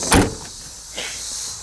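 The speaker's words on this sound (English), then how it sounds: "Nothing like slamming the door in an old American car" Rear door of a 2000 Jeep Cherokee XJ slammed shut with one loud close-range thud, followed by a quieter second knock about a second later.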